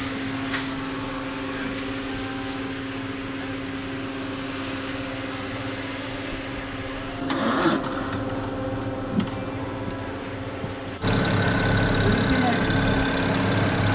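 A BMW 335i E90 engine idles steadily after its first start following ten years of neglect, a constant low hum with a brief bump partway through and a louder, fuller idle near the end.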